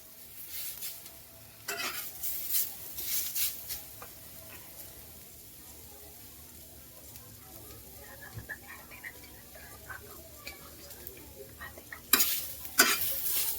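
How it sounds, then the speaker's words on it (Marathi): Onion pieces frying in a pan until reddish-brown for a Marathi-style chicken masala, with a soft steady sizzle and scraping stir strokes, plus a few louder clanks of a spoon against the pan near the end. "बघा असा मस्त कांदा लालसर करून घ्यायचा आपल्याला"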